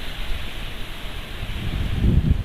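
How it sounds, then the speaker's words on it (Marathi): Heavy rain pours down by a river in a steady, loud broadband hiss, with low rumbling gusts building near the end. "बघू शकता लय जोराचा पाऊस आलाय."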